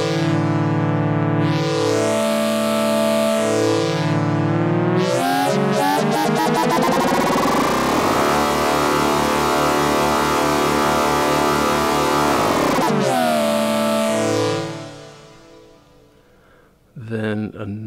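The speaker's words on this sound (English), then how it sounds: "This one is using the LFO to target the fold parameter on the" MacroFreak synth in bass oscillator mode with an LFO sweeping the wavefolder, a loud continuous droning tone whose harmonics swell and fold in cycles, fading out near the end before a brief return.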